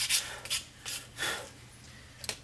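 Hand sanding of a wooden piece, with several separate rasping strokes, some short and some longer, at close range and with quiet gaps between them.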